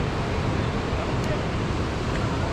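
Waves washing onto Back Town beach in Goa under light drizzle, a steady broadband surf wash with wind noise, continuous and fairly faint, no distinct breaks.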